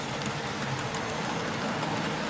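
A model railway oil train runs steadily on a loft layout, a continuous low rumble with faint rail clatter, moderately quiet and even throughout with no talking.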